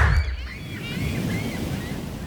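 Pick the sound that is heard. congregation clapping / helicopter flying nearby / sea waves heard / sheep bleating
sea waves heard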